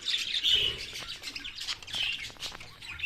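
Pet birds chirp and tweet steadily in a backyard aviary, a dense chorus of quick, bright calls from several birds at close range with no talk over them.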